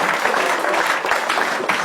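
Studio audience applause on a Hindi comedy escape-room show, steady and dense clapping from a room full of people, loud and continuous for the whole stretch with no voices over it.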